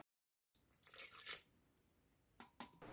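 Water poured into a bowl of hummus ingredients: cumin, paprika, salt, garlic, tahini, oil and cilantro. A short, close splashing pour follows a moment of silence, then a few faint drips and taps.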